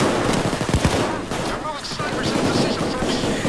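Pistol gunfire in the video game PayDay 2, a dense barrage of loud shots and bursts layered over constant game noise, with voices talking in the mix.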